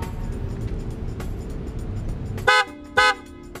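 Two short, loud blasts from a PIAA car horn sound close by after a stretch of low engine rumble, spaced about half a second apart.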